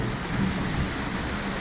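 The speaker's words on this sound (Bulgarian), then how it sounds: "заваля първия дъжд" First rain of the season falling outdoors, a dense steady hiss of drops on surfaces, close and continuous with no voices.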